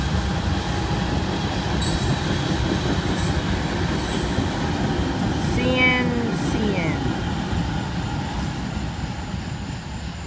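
A CN freight train carrying ethanol, with two distributed power units, rumbles steadily past, its cars rolling by with a faint squeal of wheels; a brief voice is heard partway through.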